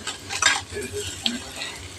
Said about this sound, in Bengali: আর এই পাশে আমি আলু ভাজছি